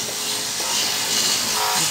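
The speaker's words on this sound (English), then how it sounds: "working outside, sanding the outside windows" Hand sanding of wooden exterior windows on a historic apartment in Chiatura, Georgia: a steady, hissing abrasive rub heard from a short distance, continuous for the whole stretch with no talk.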